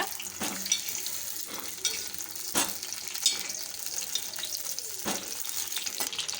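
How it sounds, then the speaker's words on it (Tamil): Green chillies and tomatoes sauté in hot oil with a steady soft sizzle and crackle, broken by a few sharp scrapes and knocks of stirring. "இப்போ இது எல்லாமே இந்த எண்ணெயிலே வந்து நல்லா வதங்கணும்"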